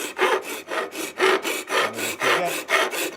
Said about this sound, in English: If you have a coarse enough rasp, this doesn't really take that long.